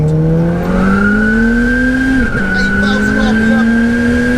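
A 713 bhp four-wheel-drive-swapped VW GTI revs hard on a roll-on toward 8,000 RPM, its loud engine note rising steadily, dipping briefly at a gear change, then climbing again up close.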